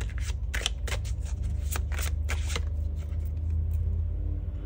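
Tarot cards shuffled for a reading, a run of crisp riffling flicks and papery slaps packed into the first half before easing into quieter sliding, heard up close over a steady low hum with no talking.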